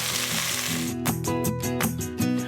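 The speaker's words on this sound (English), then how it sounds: "then I will turn it over, brown the other side, transfer it to another bowl" Chuck roast beef browning in a pot, a loud steady sizzle with a tonal hum underneath and a run of sharp clinks and pops as the meat is handled, close, no talking.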